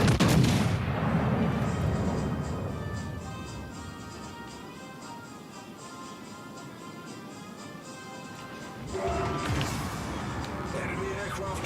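Warship artillery in World of Warships: Legends booms heavily at the start, then fades under a sustained tonal engine drone before another loud salvo erupts near the end.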